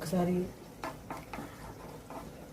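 A utensil stirs fish mango curry in a pot, giving a few soft scraping and clinking strokes close by after a short voiced sound at the start.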